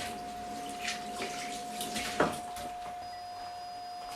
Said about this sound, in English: So, rinse your hands,